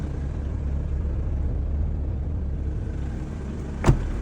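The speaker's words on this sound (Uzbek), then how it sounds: "Mana mashinani bir nima qilib zavod qildim." A car engine idles in a steady low rumble close by, with one short sharp click or knock near the end.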